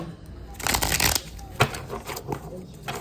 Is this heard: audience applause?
no